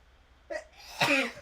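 During a baseball game live stream, a woman gives a short, soft sneeze. A quick intake of breath comes first, then a sharper burst that fades out, close and moderately loud against a quiet background.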